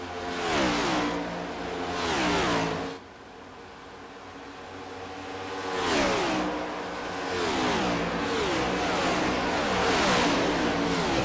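Next Gen Cup Series race cars in a sim racing video game roar past at Las Vegas Motor Speedway in repeated loud engine sweeps, each pass rising and falling in pitch, with a brief lull between passes.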